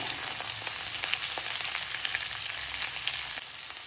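Mixed vegetables, including capsicum, sizzle and crackle steadily in a hot pan, a close, even frying hiss with small pops throughout and no talk.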